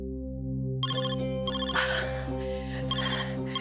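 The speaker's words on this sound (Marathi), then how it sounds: "त्या काकांचा फोन आहे" A telephone rings in a home scene from a Marathi TV serial, giving a bright electronic ringtone with repeating melodic pulses over a steady low hum, loud and continuous.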